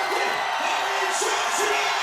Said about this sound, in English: the crowd's going hard, I'll tell you that. I can barely hear you. It is loud.